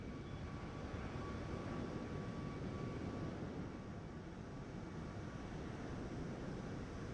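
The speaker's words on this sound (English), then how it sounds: "So there's my taxiing." An iFLY 737 MAX 8 taxiing in Microsoft Flight Simulator, a faint steady low engine rumble with a thin whine running throughout, no other sounds.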